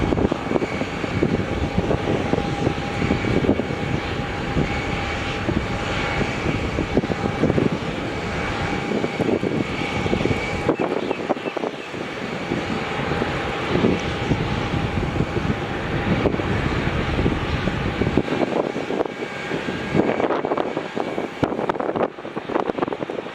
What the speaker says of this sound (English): So get the Air India exiting the runway here.